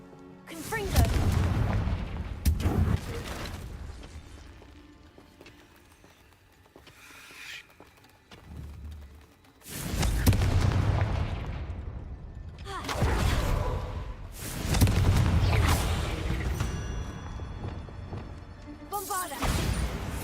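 Confringo spell blasts in the Hogwarts Legacy video game, several deep booming explosions in separate bursts, each swelling and then decaying, with quieter gaps between them.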